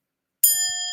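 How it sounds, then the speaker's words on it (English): A single bright bell ding strikes sharply and rings on with sustained, steady tones after a moment of silence, loud and close with no talking. "I got my validation confirmation bell, by the way."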